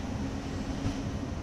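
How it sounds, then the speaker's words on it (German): Flixtrain BR 193 Vectron electric locomotive running in the Train Sim World 5 simulator: a steady, continuous rail rumble with a low drone and faint wheel noise throughout, loud and even, no voices. "dann fahren wir hier unseren schicken Flixtrain nach Offenbach"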